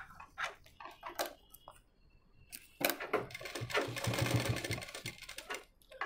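A sewing machine stitches piping onto the back of a simple blouse. Short bursts of motor whirr come first, then a long steady run of rapid needle clatter, all close and alone with no voices.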